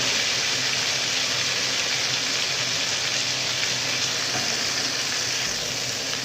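Water added to a frying pan of data shak stalks and shrimp gives a loud, steady hiss and sizzle that holds without a break.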